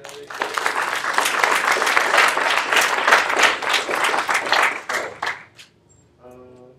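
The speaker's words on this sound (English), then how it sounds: "can we give a round of applause to Senator Lockings for giving a draft of this newsletter?" A student government meeting audience applauds, a dense burst of clapping that swells, holds for several seconds, then tapers off, followed by a brief tonal sound.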